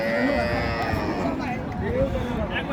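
A cow lowing at a busy cattle market: a drawn-out, wavering moo heard amid nearby voices of people talking and the general bustle of the crowd.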